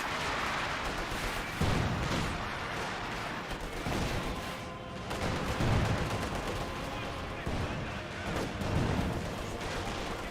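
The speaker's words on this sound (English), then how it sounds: "Penal squad firing away, gets a good damage on the Panzer Fusiliers." A Soviet penal squad firing away in Company of Heroes 2, a steady stream of small-arms shots with heavier thumps at regular intervals under continuous battle noise and a caster's talk.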